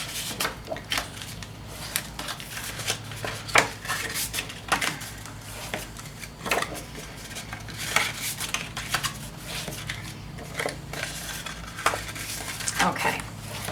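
Scored card paper being pressed and folded with a bone folder, giving soft scraping swipes and light taps in an irregular rhythm, close by with no talk.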